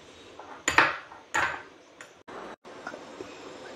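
Mustard and garlic paste being mixed in a bowl, a few sharp clinks and scrapes of a spoon against the dish, irregular and close, with short quiet gaps between strokes.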